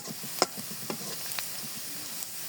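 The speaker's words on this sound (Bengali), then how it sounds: "পেঁয়াজ রসুন ব্রেস্তার সাথে আমি 3টে এলাচ দিয়ে দেবো, এর সাথে ভেজে নিব।" Onion, garlic and three cardamom pods frying in a pan for a broiler chicken curry, giving a soft steady sizzle with occasional stirring clinks and scrapes, fairly quiet and close, no voices.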